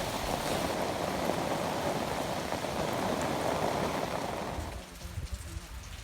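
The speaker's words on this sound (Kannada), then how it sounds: "ಈ ವೀಕಲ್ಲಿ ಎಲ್ಲ ಊರುಗಳಲ್ಲೂ ತುಂಬ ಚೆನ್ನಾಗಿ ಮಳೆ ಬಂದಿದೆ" Steady monsoon rain falls on potted garden plants, cactus, succulents and geraniums among them, a dense even hiss that fades sharply near the end, leaving a few faint drips and soft background noise.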